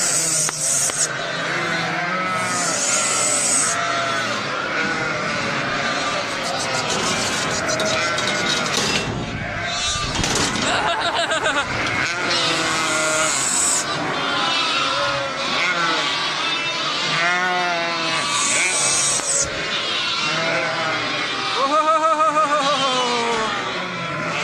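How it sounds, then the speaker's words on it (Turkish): A flock of sheep and lambs being reunited bleats continuously, many overlapping wavering calls near and far, with a steady rumbling background and some talk in between. "şimdi koyunlarla kuzuları buluşturuyoruz"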